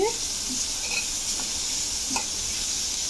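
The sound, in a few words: grated carrot stirred into sizzling pan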